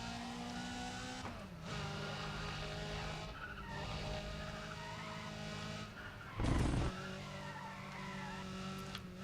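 A Volkswagen GTI in the Need for Speed racing game lets out a short, loud tire skid over a steady, droning engine note that runs throughout.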